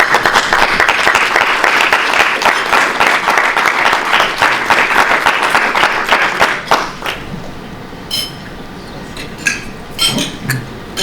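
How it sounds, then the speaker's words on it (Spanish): A loud burst of audience applause greets a documentary director at a freedom-of-expression forum, dense clapping that fades out after about seven seconds, followed by a few clinks and faint room noise. "La recibimos con un fuerte aplauso,"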